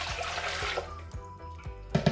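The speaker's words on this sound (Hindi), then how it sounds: "तो सबसे पहले हम पतीली ले लेंगे, उसमें हम पानी डालेंगे।" Water poured into a cooking pot in a home kitchen while making haleem, a loud gushing splash at first that eases into lighter trickling and a few clinks.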